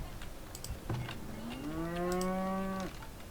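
A single drawn-out cow moo from a city-building video game rises and holds, with light clicking keys tapping faintly in the background.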